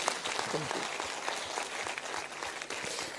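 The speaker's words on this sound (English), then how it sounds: "A round of applause for Honorable Sadhvi ji." Audience applause for an honored guest at a Q&A session, a steady wash of clapping filling the short stretch with a few voices mixed underneath.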